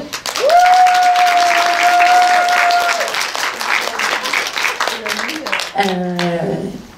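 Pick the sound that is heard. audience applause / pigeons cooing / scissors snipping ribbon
audience applause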